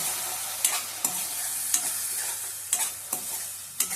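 Clams being stirred and roasted in a pan with ginger, garlic and coriander, a soft steady sizzle broken by several sharp scraping stirs of a utensil at irregular intervals.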